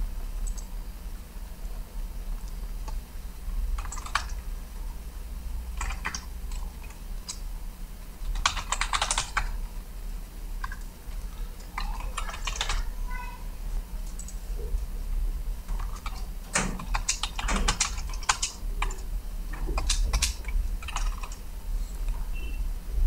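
Steady typing on a computer keyboard while an email is composed, with irregular bursts of key clicks coming close and fairly loud over a faint background hum, no voices.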